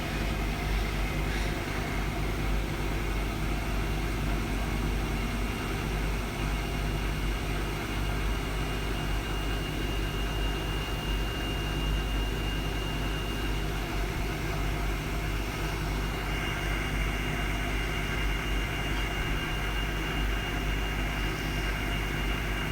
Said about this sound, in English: Wonderful, wonderful motor noise.